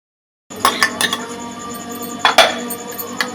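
Tomatoes go into a pan for baingan bharta and are mixed with a curry spoon, giving a series of close, sharp metallic clinks and knocks against the pan, with a louder cluster near the end.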